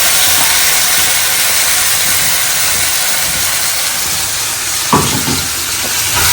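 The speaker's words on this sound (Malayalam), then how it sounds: "ഇഞ്ചി വെളുത്തുള്ളിയുടെ പച്ചമണം മാറിയിട്ടുണ്ട് കേട്ടോ ഇനി നമുക്ക് ഇതിക്ക് രണ്ട് തക്കാളി പേരച്ചരച്ചിട്ട് എടുക്കാം" Ground tomato paste added to ginger and garlic in a hot pan sizzles with a loud, continuous hiss, broken briefly by a couple of knocks near the end.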